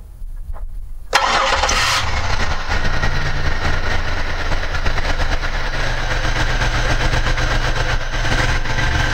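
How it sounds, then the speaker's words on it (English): A car engine cranks and catches with a sudden loud start, then settles into a steady, close idle with a low rumbling hum that holds for several seconds, no voices. "I'm gonna go ahead and start it now."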